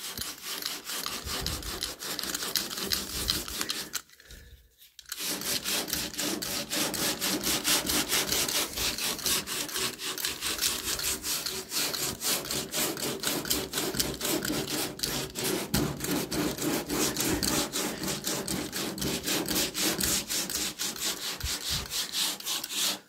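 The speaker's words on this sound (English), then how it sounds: "That's the majority of the sanding, so to speak." Steady, vigorous hand sanding of old paper off a headlight, a continuous rasping scrub close by that breaks off for a moment near the start and then runs on without pause.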